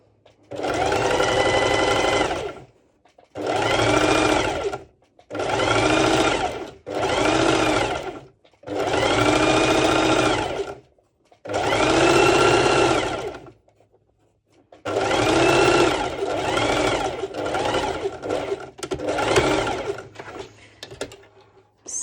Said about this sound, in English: I wanted to show you how you can do the top stitch using the zigzag stitch